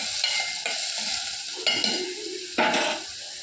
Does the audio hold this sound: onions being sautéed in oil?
yes